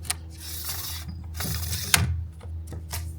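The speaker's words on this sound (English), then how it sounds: "It has these right angle clamps so you can easily extend the tubes and retract them" Right angle clamps on a Titan 3x17-foot pole of blue-coated 6063 aluminum being worked, giving close, soft mechanical clicks and ratcheting rattles over a low hum.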